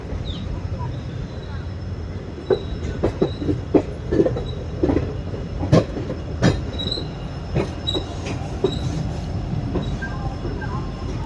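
Trichy to Tambaram intercity express train at Villupuram Junction, with a steady rumble of wheels on rails and sharp squeals and clicks throughout, under faint crowd chatter.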